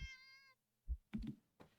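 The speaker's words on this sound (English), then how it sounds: "The cat meows at you again" A cat in a video game meows low and deep, one drawn-out call followed by a few soft thumps and clicks, close and fairly quiet.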